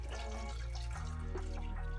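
Juice is poured into a blender for a simple vegan breakfast smoothie, making a steady close-up liquid stream over a low continuous hum for about two seconds.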